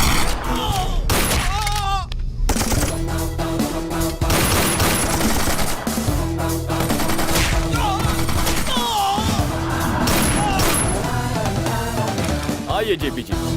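Rapid bursts of automatic gunfire crackle through an action-film scene, dense fusillades layered over a loud music score with occasional dialogue mixed in.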